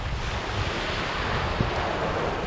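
Steady wash of sea waves on a calm sea at dawn, heard as a continuous broadband rush mixed with wind buffeting the microphone, with no voices.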